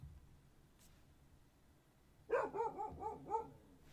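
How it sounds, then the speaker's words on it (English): A dog barks several times in quick succession at close range indoors, the sharp barks starting after a stretch of quiet room noise. "I cannot concentrate with her barking"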